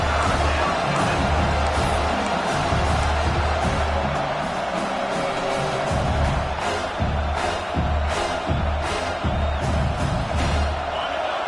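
A home crowd in a college football video game roars as the defense tries to get off the field on third down, a dense, sustained wall of cheering with rhythmic thumps and a commentator talking over it.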